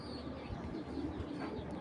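Red checker racing pigeons cooing softly in a loft, low murmuring coos and faint chirps over a steady background hum, with no one talking.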